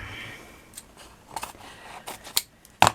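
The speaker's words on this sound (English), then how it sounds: "so we'll cut that there, and I'll just cut 3 of those" Scissors snipping craft material for a flower cluster patch, several quiet separate cuts spaced unevenly, the last one sharper and louder, close by in a quiet room.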